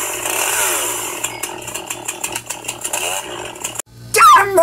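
A chainsaw revs loudly while cutting down coconut trees, its buzzing whine rising and falling in bursts, then stopping abruptly before a brief rising whistle-like tone near the end.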